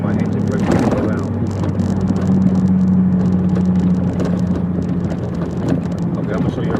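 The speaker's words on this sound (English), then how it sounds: "I'm using my engine brake to go down." Truck engine brake holding back a truck on a downhill grade: a steady, loud low droning rumble with a sustained tone, continuous throughout.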